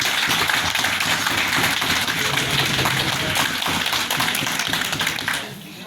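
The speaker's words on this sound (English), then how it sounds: "A big round of applause." Audience applause at an Unani Day celebration during a memento presentation, a dense, sustained wash of many hands clapping that carries on loudly for several seconds before tapering off at the end.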